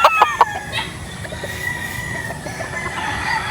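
Tornado hatch rooster at Shinsin farm in Norzagaray, Bulacan, giving a few sharp, close clucking calls at the start, followed by a quieter farmyard background with distant bird sounds.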